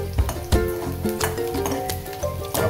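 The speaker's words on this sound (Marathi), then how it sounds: "हा कांदा हा जरासा याचा कच्चेपणा मोडेपर्यंत आपण हा परतायचा" Chopped onion sizzles and is stirred in a hot pan for a Malvani curry, a steady frying hiss broken by a few sharp scrapes and clinks of the spoon against the pan.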